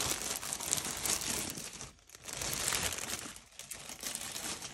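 Brown paper, thin 50 GSM overlay sketchbook paper and 80 GSM printer paper being crumpled by hand, a close, continuous crinkling rustle with brief pauses, no voices.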